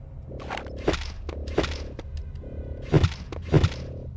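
The Tesla gun in Return to Castle Wolfenstein: Operation Resurrection on PS2 fires four short bursts of buzzing electric crackle, each ending in a dull thump, with brief pauses between them.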